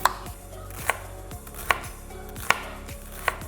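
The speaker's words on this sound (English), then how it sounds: "I quickly cut up some shallots that I'm gonna use when I saute the spinach" A knife chops shallots on a cutting board in five crisp, evenly spaced strikes about a second apart, close and clear against a quiet kitchen background with no talking.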